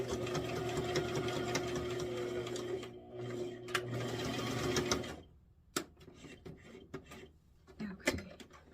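A sewing machine stitches fabric for a kitchen apron, running at a steady hum for about five seconds, then stopping, leaving quieter handling clicks and fabric rustles.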